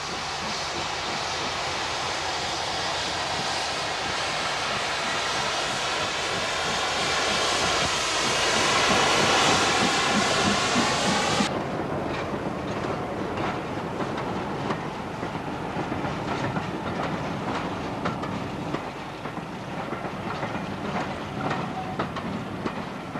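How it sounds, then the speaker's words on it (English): Steam locomotive 72006 Clan Mackenzie, last survivor of its standard class 5 type, hauls a parcels train south from Perth in 1965, a loud, continuous rumble and roar whose character changes abruptly about halfway through. "72006 Clan Mackenzie is seen here heading south from Perth with a parcels train in 1965."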